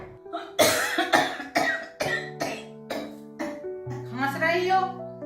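A woman coughs in a run of about eight harsh, evenly spaced bursts, fairly close and loud, over steady sustained background tones.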